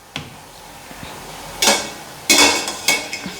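Carrots tipped into sautéed vegetables in a pan for breakfast pasta, with a few distinct clattering scrapes and knocks of a utensil against the pan, spaced apart over faint background hiss.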